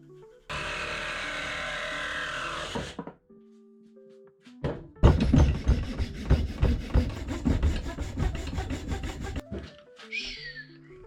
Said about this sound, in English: Get going with the sanding now.